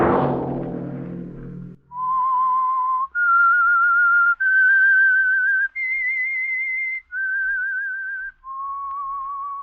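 A clear whistled melody of six sustained notes, the theme of the 1948 radio drama The Whistler, each held with a slight wavering vibrato and separated by short breaths, preceded by a brief noisy burst.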